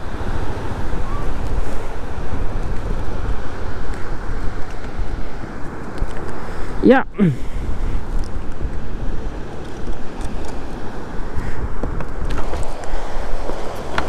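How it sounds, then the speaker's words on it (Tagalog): Strong ocean waves roar steadily along the Laurel, Batangas baywalk, loud and close with wind buffeting the microphone, and a single short spoken word partway through. "grabe lakas ng alon"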